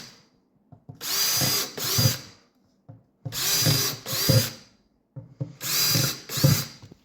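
A power drill with a small 11/64 bit bores drainage holes in the bottom of a plastic bucket: three separate bursts, each a whirring grind that rises and then stops, close up with quiet gaps between them.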